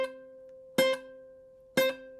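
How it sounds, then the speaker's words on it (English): A ukulele string is plucked in two separate attempts at a hammer-on, the fretting by a beginner sounding uneven. Each is a sharp pluck, and the earlier note rings on quietly between them, heard alone. "If your hammer-ons sound like this at first"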